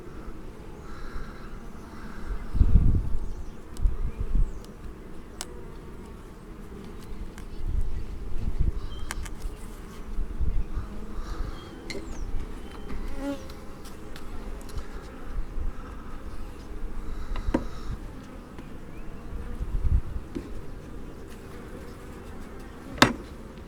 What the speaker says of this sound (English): My bees are fine.